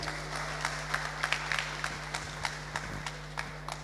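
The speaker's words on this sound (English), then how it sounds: "So give Rico a big round of applause," Forum audience applauding a speaker's arrival, modest scattered clapping over a steady electrical hum, with a few distinct claps standing out and the applause thinning toward the end.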